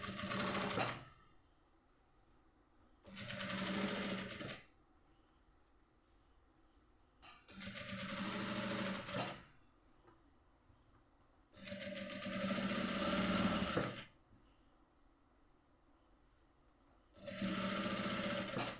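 A sewing machine stitches a churidar top in five separate bursts of fast, rattling mechanical whirring, with short quiet pauses between them.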